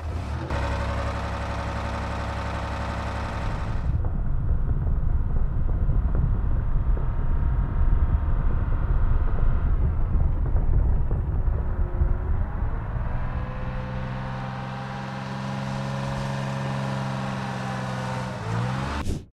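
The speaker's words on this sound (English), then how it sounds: "let's take a listen to the AAVP" An AAVP amphibious assault vehicle in the game Squad drives with a loud, continuous engine drone and grinding mechanical rumble, its pitch shifting as it changes speed, with wind-like noise and no talking.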